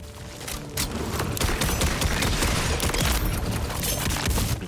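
Dense, loud barrage of video-game gunfire, shotgun blasts in Borderlands 4, firing in rapid overlapping bursts with crashing impacts for several seconds and no talking.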